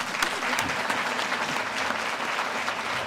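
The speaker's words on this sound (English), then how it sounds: "Round of applause for Nathan." Steady, dense applause fills a hall at an honors convocation as a crowd claps for a speaker, even and unbroken throughout.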